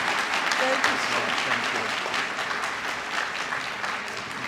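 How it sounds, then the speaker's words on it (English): A graduation audience for the May 2023 culinary institute ceremony claps for Chef Aaron, a dense sustained round of applause that tapers slightly toward the end. "Please help me applaud Chef Aaron."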